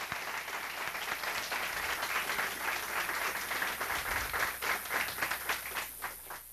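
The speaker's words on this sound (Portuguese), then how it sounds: "uma salva de palmas ao professor que encampou isso, por favor." An audience at a Debian mini-conference lightning-talk session in Belo Horizonte claps for a professor, steady dense applause that swells slightly and holds for several seconds, with a few faint voices beneath.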